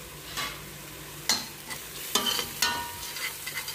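Chicken with black pepper, baharat, coriander and turmeric is stirred in a sizzling pan, spoon scrapes landing in uneven bursts over a continuous close frying hiss.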